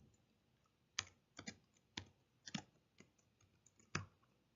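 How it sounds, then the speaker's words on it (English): Computer keyboard typing in separate clicky bursts of keystrokes, roughly one cluster per second, close and quiet, with no talking. "we can just type in Al Capone,"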